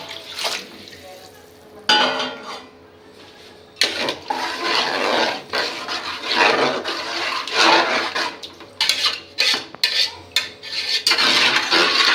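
Water is poured into a metal pot of sautéed rice and lentils for khichuri in several bursts, splashing and sloshing, with clinks of utensils against the pan between pours.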